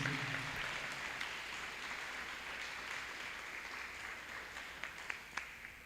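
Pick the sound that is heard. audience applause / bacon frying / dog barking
audience applause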